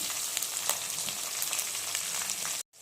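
Chopped onions, split lentils and curry leaves fry in hot oil, giving a continuous close sizzle with faint stirring, ending abruptly in silence.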